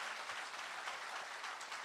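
Audience applause for a judge at a Korean political book-launch speech, a steady broadband wash of clapping held at moderate level throughout with no voices over it.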